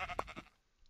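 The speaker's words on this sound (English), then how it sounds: "Another sheep." A sheep in Minecraft gives a short, faint bleat, a single wavering call that quickly fades into quiet.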